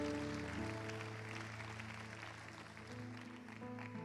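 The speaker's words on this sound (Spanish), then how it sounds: "Denle un aplauso fuerte al Señor." A church congregation claps together beneath sustained organ or keyboard chords, the applause blending into the music at a moderate, steady level.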